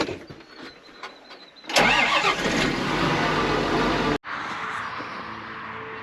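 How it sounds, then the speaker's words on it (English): A tractor engine cranks, catches and settles into a loud, steady run as it warms up, starting after a quiet moment and cutting briefly near the end. "let's get this tractor warming up"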